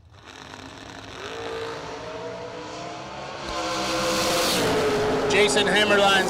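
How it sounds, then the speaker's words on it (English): Drag racing launch with a 5th gen Camaro and a 1st gen Camaro, engines rising into a loud building roar that swells toward the end, heard from a distance with announcer-style commentary mixed in. "Hemmerline leaves first. In the 5th gen Camaro, down 499. 480 on the boards for Martin in the 1st gen"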